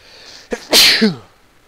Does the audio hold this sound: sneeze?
yes